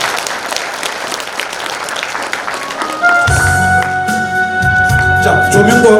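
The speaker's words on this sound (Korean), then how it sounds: "여러분 큰 박수로 청해 듣겠습니다" Audience applause at a book launch event in Korea, dense clapping in the first half, then music with sustained tones starts and the clapping continues beneath it.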